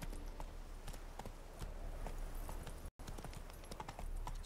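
Hoofbeats of the horse Roach in The Witcher 3, a continuous clip-clop of walking hooves over a dense ambient game soundscape, fairly quiet, with one brief dropout near the end.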